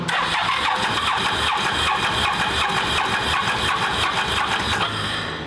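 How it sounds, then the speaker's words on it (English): A cheap side-by-side UTV's engine cranks and catches, then runs at a rough, loud, steady mid-pitched idle close to the microphone, with no talking. "Gonna go ahead and fire this thing up."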